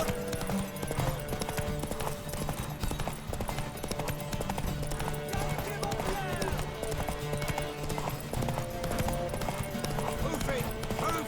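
Horse hooves clip-clop steadily through a galloping race in The Witcher 3, with occasional whinnies, music and voices talking over the pounding hoofbeats throughout.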